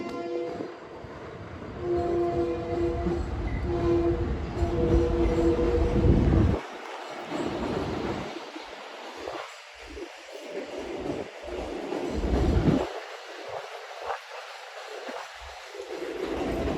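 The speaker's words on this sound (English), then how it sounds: "I heard a K5LLA horn." A Long Island Rail Road DE38 locomotive pulling double-decker cars passes at Hunterspoint Avenue, sounding a loud sustained K5LLA horn chord for several seconds before the horn stops and the rumbling train keeps rolling by up close.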